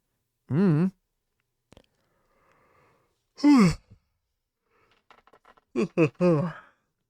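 A person yawns in a long, breathy, voiced stretch, followed later by a few shorter sighing and groaning vocal sounds with quiet gaps between them.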